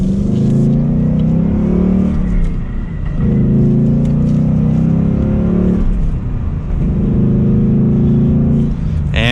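A 2022 Ford Mustang GT Premium California Special with a 5-liter V8 and six-speed manual pulls away from first gear, its loud, close engine rising in three strong surges, with brief dips between them at each shift.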